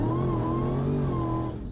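A 1200-horsepower Hellcat engine drifting, a loud sustained roar with a steady droning tone that holds and then eases slightly near the end of a brief burst.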